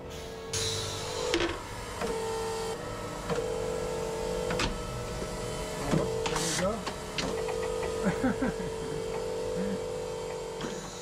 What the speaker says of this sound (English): It's quite a dangerous machine actually, because there's quite a big container with hot molten lead.